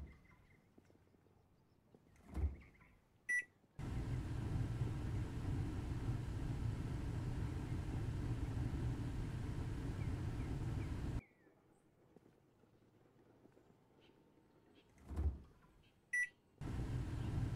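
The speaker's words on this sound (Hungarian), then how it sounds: "Megfogom ezt az egészet, behajítom a mikróba." Steady microwave oven hum running for several seconds inside the Kebab Chefs restaurant simulator game, bracketed by short beeps and clicks at the start and end.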